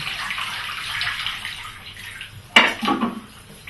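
Photographic stop bath, used for Super 8 film processing, is poured back into a mayonnaise jar, with a quiet liquid trickle and then a brief louder splash and gurgle near the end.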